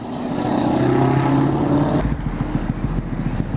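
A loud Ford Mustang engine roars close by, then drops to a lower rumbling drone as the car moves past.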